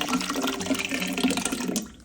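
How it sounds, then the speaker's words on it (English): Running water rinses out a cooking pan that held thick tomatoes, a steady splashing flow near the sink that cuts off just before the end. "We would rinse the pan"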